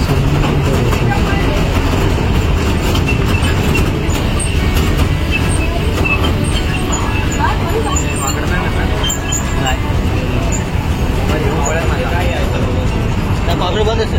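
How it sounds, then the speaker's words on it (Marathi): Matheran toy train running on narrow-gauge rails through hill country, a steady continuous rumble and clatter of wheels filling the whole stretch, close and loud with no breaks. "टॉय ट्रेनचा हा प्रवास खरंच खूपच सुंदर होतो"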